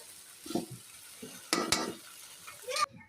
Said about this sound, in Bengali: তেল দিয়ে এর ভিতরে তেজপাতা জিরা দিয়ে আলুগুলো ভালো করে ভেজে নেব